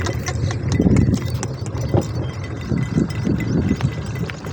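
A donkey cart moves along with a steady rhythmic clip-clop of hooves, close and fairly loud, over rumbling wheel and road noise.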